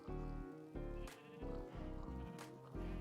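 Sheep in Minecraft bleat repeatedly, a series of loud, close, wavering calls in overlapping bursts with no speech.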